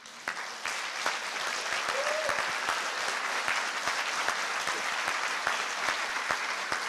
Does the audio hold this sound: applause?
yes